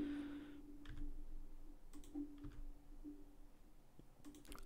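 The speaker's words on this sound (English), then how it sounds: "I'll press 7 on the keyboard to come up to the top view" Computer keyboard keys are pressed while modeling in Blender: a few faint, sparse clicks scattered over a quiet room tone with a low steady hum.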